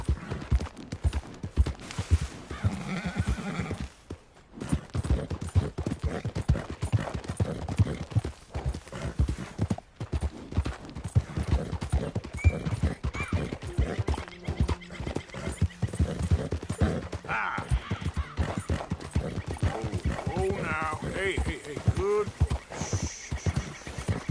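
Horse hooves clip-clop in Red Dead Redemption 2, a rapid steady rhythm of hoofbeats with occasional neighs, under intermittent speech.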